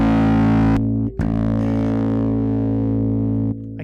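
A Warwick Thumb BO 5 five-string bass, preamp EQ flat with both pickups blended, runs through an Origin Effects DCX Bass distortion pedal for a fuzzy, synth-like tone. One loud sustained note rings, is cut off, then rings again.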